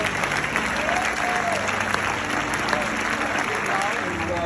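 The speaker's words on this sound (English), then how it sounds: "Why don't you give him a hand clap of praise right now?" A church congregation claps hands in praise during a Sunday service, a dense, steady wash of applause filling the room from start to finish with a murmur of crowd noise beneath.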